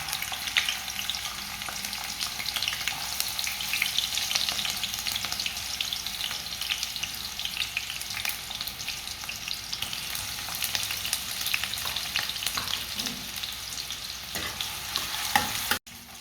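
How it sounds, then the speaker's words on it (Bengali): Sliced onion fries in hot oil in a pan, giving a continuous close sizzle with frequent scraping and clicking from stirring, which stops abruptly near the end. "পেঁয়াজটা ভাজা হয়ে গেছে।"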